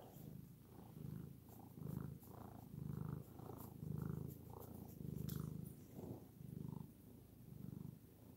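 A cat purrs steadily up close, each rumbling breath in and out forming a regular, pulsing rhythm with no voices.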